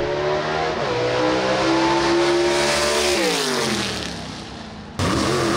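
Southeast Gassers drag racer roaring down the strip at Shadyside Dragway, a loud sustained engine howl with rising then falling pitch, fading briefly before cutting back in.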